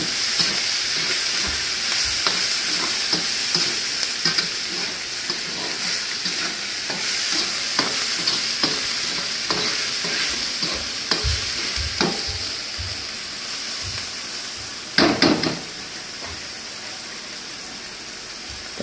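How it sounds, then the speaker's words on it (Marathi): Onion frying in oil for a mussel tawa fry makes a continuous close sizzle with frequent spatula stirs and scrapes, ending in a brief louder clatter near the end. "त्याला तेल टाकला कांदो टाकला कांदा फ्राय करून घेतोय"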